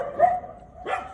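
A dog outdoors at night near a temple gives two short, moderately close barks about a second apart, with quiet background between them.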